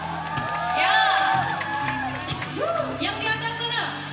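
An audience at an evening concert cheers, whoops and shouts with scattered applause, a lively crowd roar that rises and swells while voices call out across the venue.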